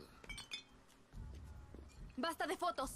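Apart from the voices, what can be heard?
glasses clinking in a toast, from the video game Far Cry 6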